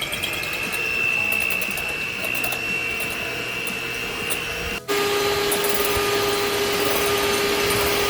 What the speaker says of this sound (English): Now we're going to mix these until we have stiff peaks